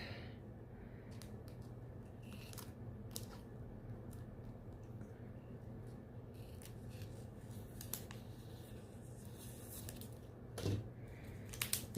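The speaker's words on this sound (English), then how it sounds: "I'm actually going to cut this apart" Scissors snip through a diamond painting sheet in a string of faint, crisp cuts over a steady low room hum, with a slightly louder snip near the end.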